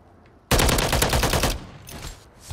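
Rapid crackling gunfire bursts in the Modern Warfare 3 video game, a loud second of repeated shots followed by fainter scattered pops, with no one speaking.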